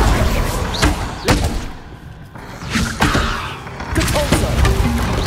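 Confringo spell blasts in Hogwarts Legacy, several loud thudding impacts spaced over a few seconds amid busy combat noise, close and punchy.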